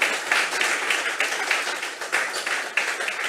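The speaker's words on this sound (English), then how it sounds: "I want a real clap to the Member of Parliament for bringing you to Mayaro to this event" Audience at the Mayaro Legacy Awards 2022 in Mayaro clapping for the Member of Parliament, a loud, sustained wash of applause from a large crowd throughout.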